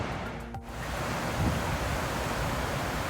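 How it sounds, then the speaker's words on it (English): Water rushes steadily through a sluiceway at the bottom of the Falls Lake dam on the Neuse River after heavy rain, a continuous loud roar with no talking. "at the bottom of the dam there's water coming through. That's what's called a sluiceway."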